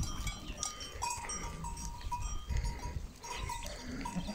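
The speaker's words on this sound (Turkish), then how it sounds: "Sakız merinoslar var." A flock of Sakız merino sheep grazes on a mountain highland pasture near Silifke. Scattered bleats and clanking bells rise over a busy, rustling outdoor background at moderate distance.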